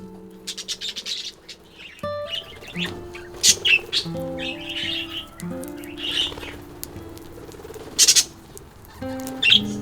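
Budgies in an aviary chirping and warbling close by in busy, overlapping bursts, with bright sharp peeps over a chattering, varied song and no talk.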